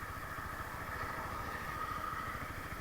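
A motorcycle engine idles in neutral with the clutch pulled in, a low, steady putter with even rhythm, close by and unbroken, with no speech.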